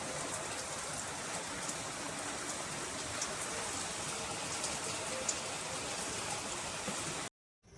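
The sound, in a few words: heavy morning rain falling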